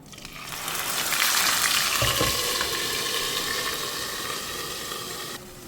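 Onion paste hits hot oil while cooking mutton masala, bursting into a loud, close, steady sizzle that holds for several seconds before easing off.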